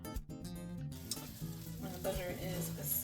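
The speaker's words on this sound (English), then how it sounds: "When the butter is sizzling like that," Butter crackles and sizzles steadily in a hot nonstick pan, close and fairly quiet, with a voice and some music underneath.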